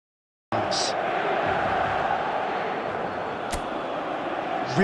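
Crowd roar inside a stadium in the eFootball video game on a clear evening, a dense, steady broadband murmur of many voices holding level from just after the start, with a brief sharp knock partway through.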